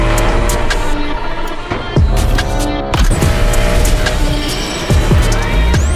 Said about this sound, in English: I took the Hoonicorn out for a ride this morning.